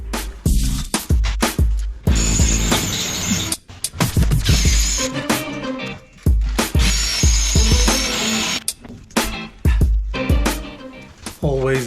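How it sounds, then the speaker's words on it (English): A power drill bores out holes in the steel window frames of an old ship under restoration. The drill runs in loud, repeated bursts separated by short pauses. "Always drill out bigger."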